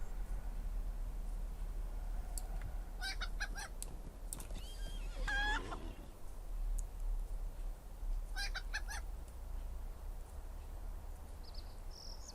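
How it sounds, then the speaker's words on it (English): In the fantasy online game Lord of the Rings Online, a chicken clucks and squawks in a few quick, panicked bursts over a steady low ambient hum, moderately close and otherwise alone. "as I listen to this chicken babbling away"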